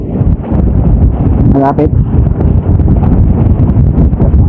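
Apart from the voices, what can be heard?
strong wind blowing into the microphone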